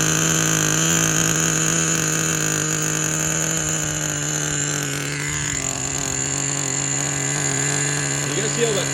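Traxxas Nitro Rustler RC truck with a warmed-up nitro engine idling high, a loud steady buzzing drone with strong sustained tones that barely waver, close by and alone throughout.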